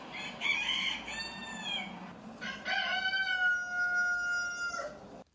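A loud, drawn-out crowing call from a large bird, two long harmonic phrases separated by a brief pause, close and clear.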